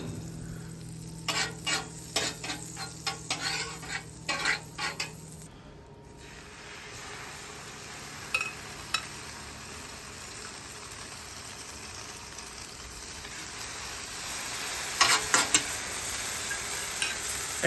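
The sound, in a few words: French toast sizzling in butter on griddle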